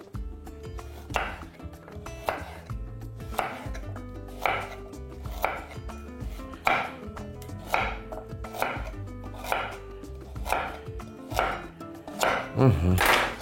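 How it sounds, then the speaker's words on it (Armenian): A knife chops carrots into slices about one centimetre thick on a board, producing a steady run of close, evenly spaced thuds roughly once a second, with a brief clatter at the end. "Գազարը կտրատում ենք տափողակների մոտ 1 սանտիմետր հաստության"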